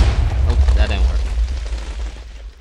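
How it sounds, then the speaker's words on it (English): A TNT cannon explosion in the Minecraft video game, a loud deep rumbling boom that fills the clip and slowly decays. "These TNT cannon thing sucks."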